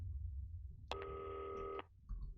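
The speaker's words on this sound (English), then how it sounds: "Yeah, phone." An in-game telephone rings once in Not For Broadcast, a single sustained electronic trill lasting nearly a second with a sharp start and stop, clear and close against a quiet low rumble.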